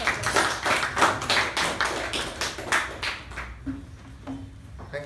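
Applause from an audience at a Toastmasters club meeting, a few sharp claps and taps at first that thin out, with scattered handclaps and some murmuring toward the end.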